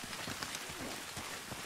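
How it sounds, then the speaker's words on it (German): Steady rain from Warhammer Vermintide 2 gameplay patters densely on surfaces, a continuous hiss with scattered drop impacts and no voices. "Es regnet."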